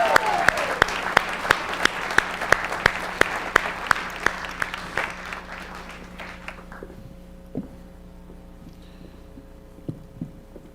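Slow, evenly spaced claps from a live audience at a comedy livestream show, loud at first and then thinning out and fading to a quiet hum with a few scattered taps.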